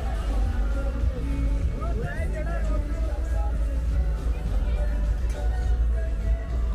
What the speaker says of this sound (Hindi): आप भीड़ देख सकते हैं टिटोज लेन में कितनी भीड़ है।